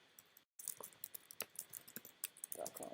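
Quick bursts of keystrokes as a website address is typed on a computer keyboard, close and fairly quiet, with a brief pause near the start and uneven clicking rhythm after.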